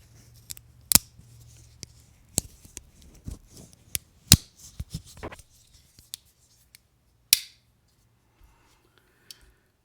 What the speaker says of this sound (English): I love the fact that they are spring-loaded pliers